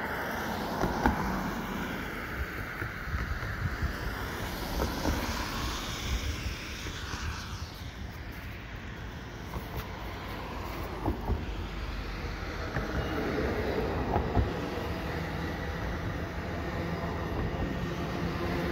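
A northbound Exo commuter train hauled by an ALP-45DP locomotive rolls past at a steady pace in winter in Laval, its rumble and clatter sustained throughout, with occasional thumps and a faint squeal of wheels on rails.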